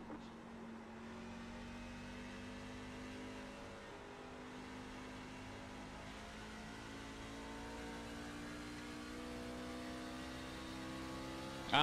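A Chevrolet Silverado race truck engine in the iRacing game at Phoenix International Raceway drones steadily with a faint, sustained tone, pitch rising and falling slightly as the truck runs laps.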